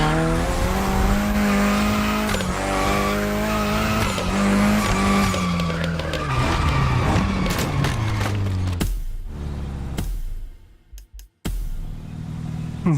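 A drift car in The Crew Motorfest video game screeches its tires in long squeals over a loud engine drone, then breaks into choppy skids and bursts near the end, with no talk.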